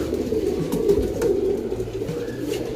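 Pigeons cooing in a loft, a steady layered murmur of soft low coos from several birds nearby, continuous throughout with no voices.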